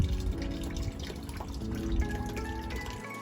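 Water trickles and splashes steadily from a hose into a car radiator, a continuous wet running sound with small drips, close by and fairly quiet.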